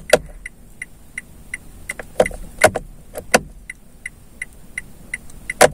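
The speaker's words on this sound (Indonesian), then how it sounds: "ini saya nyalakan lampu sen, bunyi yang pertama tuh seperti ini." A Mitsubishi Xpander Cross turn-signal indicator ticking at a steady rhythm, crisp clicks repeating about twice a second, close and clear with a few louder clunks among them.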